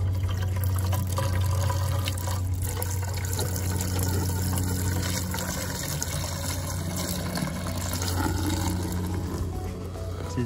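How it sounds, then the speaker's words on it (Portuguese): Water pours steadily from a small juice jug into a container holding a car-care product, a close, continuous gurgling fill with no talking. "Colocar, completar com água."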